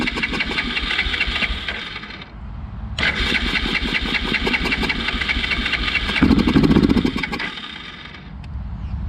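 A Yamaha Grizzly 350 4x4 ATV's electric starter cranks the engine in repeated loud, close bursts, with a brief pause between attempts and a rougher, rising surge near the end as it struggles to catch.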